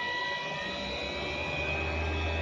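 An upgraded CNC 3018 spindle motor running after being switched on, giving a steady high-pitched whine with a constant tone and a low hum underneath, close and continuous, with no talk.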